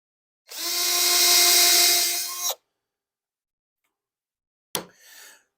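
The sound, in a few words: power drill drilling into a wooden floating picture frame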